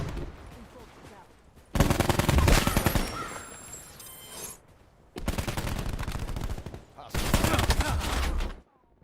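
Rapid automatic bursts from the SWAT rifle in Call of Duty Black Ops 4, three loud sustained strings of fire separated by short pauses, with quieter game sounds between them.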